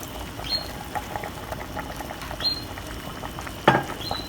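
A pot of steak and ale chowder bubbles on the stove, a steady low simmer with soft pops and patter throughout and one sharper clink of utensil on pot near the end.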